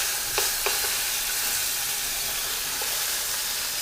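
Beef short rib sizzles steadily in a hot pot, a loud continuous hiss with a few sharp pops and scrapes as the meat is turned onto its sides.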